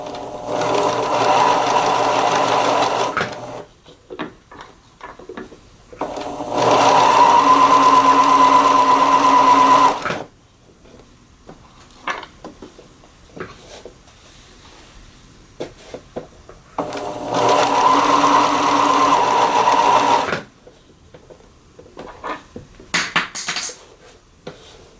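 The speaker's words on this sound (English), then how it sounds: "So now I have to sew that together." A sewing machine stitches a jacket's bodice back to its skirt back in three loud, steady runs of a few seconds each, with quiet pauses and small handling clicks between them.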